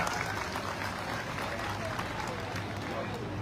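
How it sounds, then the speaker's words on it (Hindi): Hall audience at a business meeting applauding loudly, a dense continuous clatter of many hands filling the space, with voices murmuring underneath. "एक जोरदार तालियों से धन्यवाद"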